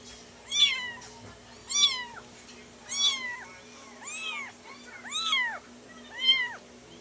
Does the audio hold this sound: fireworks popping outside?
no